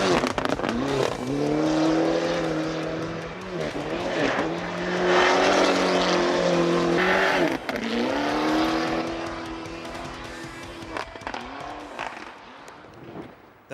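A rally car on spiked tyres is driven hard on a winter road by Norwegian rally ace Berger Gundersen, its engine revving and droning steadily, rising and falling in pitch as it accelerates and slides, loud and close throughout.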